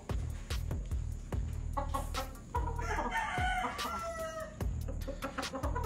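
A gamecock rooster raised for cockfighting crows and clucks close by, with sharp repeated clucks and a drawn-out crow in the middle, set against a low background hum.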